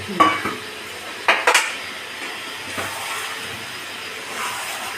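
Skate fish (shankar mach) being stirred and fried in a pan with a little added water, with a few sharp utensil scrapes and clinks early on over a soft, steady sizzle, close by.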